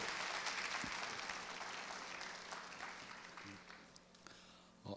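Audience applause in a church high school service, a dense, sustained patter of clapping that gradually tapers off over a few seconds.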